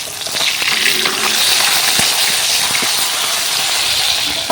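Fish fries in a pan over an open-air cooking fire in a courtyard, a steady bright sizzle and hiss with a few small pops and crackles throughout, close and fairly loud, with no talking.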